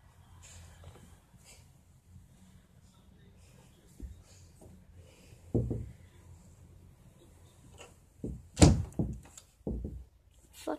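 A door bangs and thumps several times, scattered knocks building to a loud heavy slam cluster near the end, with voices and muffled movement around it.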